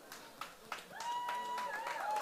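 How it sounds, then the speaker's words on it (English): A crowd at a Muay Thai world title fight applauds the fighter with scattered claps that give way to a steady wash of clapping and cheering, a whistle-like tone cutting through the noise. "So I just want to give him a round of applause."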